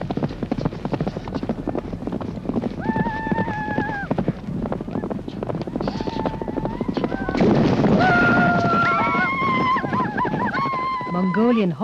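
Horses galloping in a Mongolian horse race ridden by children, with rhythmic hoofbeats under a sung choral chant and voices, building into a louder crowd-like swell toward the end.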